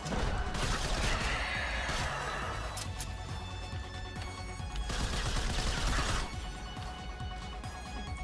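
Shotgun blasts in the video game Strafe, a few loud bursts of fire with crashing impacts spaced across several seconds amid dense game noise.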